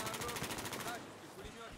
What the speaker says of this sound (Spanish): no sé dónde me vienen los disparos